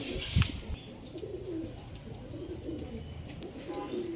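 Pigeons coo softly in a low, murmuring rhythm, with a brief louder flutter near the start and faint background chatter throughout.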